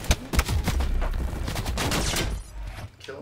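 Rapid automatic gunfire from a sentry gun in Call of Duty Black Ops 4 Beta multiplayer, a loud close burst of repeated shots over about three seconds.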